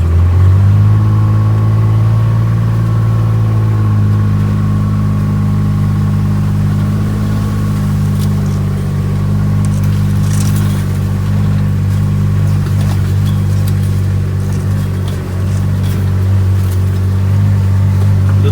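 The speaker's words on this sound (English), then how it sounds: "You can actually hear the engine with a little bit more tension on it" A steady, loud 2021 Kubota RTV X1140 utility vehicle engine drones with a low, labored tone while climbing a grade, holding constant load throughout with no talking.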